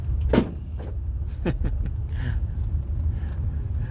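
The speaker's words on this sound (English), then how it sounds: "That noise was the parking brake release." The parking brake on a 1964 Cadillac Coupe De Ville releases with a few sharp mechanical clunks and clicks, spaced out over a steady low rumble inside the car.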